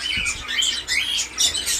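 Cockatiels kept as breeding pairs in a bird shop chirp and tweet in quick, bright bursts close by, several calls overlapping with no talking.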